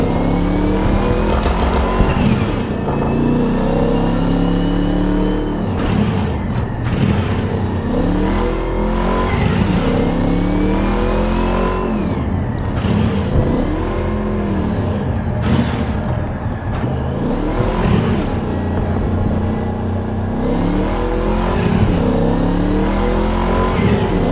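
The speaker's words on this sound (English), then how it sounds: "Just got in this car." A car in the Cyberpunk VR game, driving around Night City's motorsports scene, roars steadily as its engine revs up and down in repeated swells, loud and close throughout with no talking.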